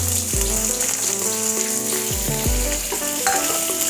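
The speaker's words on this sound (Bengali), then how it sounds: "পেঁয়াজটা খুব ভালো করে আমি ফ্রাই করে নেব আগে।" Finely chopped onions frying in hot oil, a steady loud sizzle and crackle throughout, with a few tonal kitchen clinks and a swooping tone riding over the bubbling; no talk.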